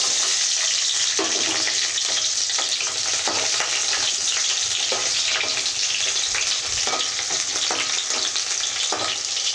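Onion pieces sizzle and fry steadily in a pan for mushroom curry, a loud continuous crackle with periodic stirring scrapes throughout, no voices.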